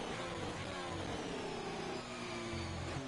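A Formula 1 car on an out lap in a racing video game, at the Mexico circuit, gives a steady mid-pitched engine drone with slight shifts in tone and no sharp revving peaks.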